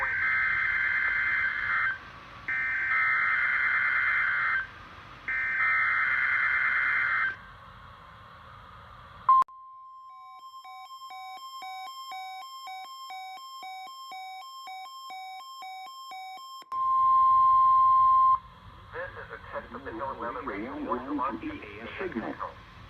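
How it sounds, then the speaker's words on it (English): Weather radio plays loud EAS alert signal tones in three repeated bursts, then a long steady attention tone and a digital data burst. A voice speaks at the start and after the tones. "EAS signal. These signals are used to activate specially designed receivers when warnings or selected watches are issued"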